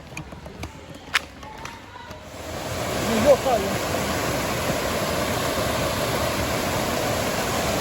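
Water pours steadily at a small dam's intake, a broad continuous rush that swells after a few quieter seconds of faint outdoor sound and then holds loud and close.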